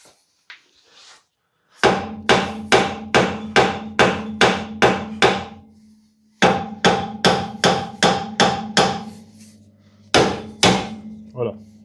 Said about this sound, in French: Je vais prendre un plus gros marteau.